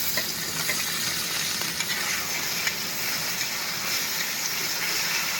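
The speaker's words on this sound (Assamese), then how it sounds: "আলু বিলাহী পূৰা ভাজি লৈছোঁ আগতে মই তেলত পূৰা ভাজি লৈছোঁ।" Potatoes and tomatoes fry in oil with a continuous, even sizzle close by, dotted with faint stirring clicks and no voices.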